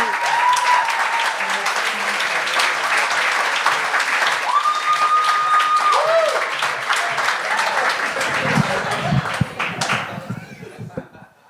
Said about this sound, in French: Un tonnerre d'applaudissements pour Jonathan Vaillancourt!